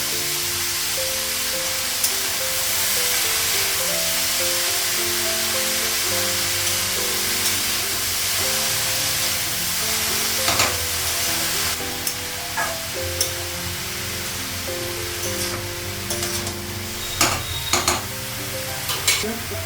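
Cabbage fries with salt in a pan, sizzling steadily while a utensil stirs and scrapes it in rhythmic strokes, with occasional sharper clinks near the end.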